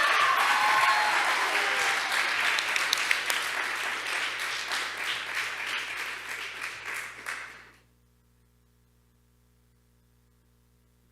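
An audience at a middle school award chapel applauds an award winner, with steady, dense clapping that holds strong for about eight seconds before stopping abruptly into silence.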